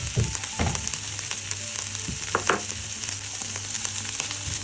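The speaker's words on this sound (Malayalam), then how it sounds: "നമുക്ക് ബട്ടർ ഫ്രൈ ചെയ്യാം" Butter frying in a pan while cooking gobi manchurian, a steady close sizzle with a few louder bursts and scrapes near the start.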